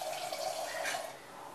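Water pours into a cooking pot for a prawn and egg curry, a steady splashing gush that fades a little toward the end of the brief moment, close and alone.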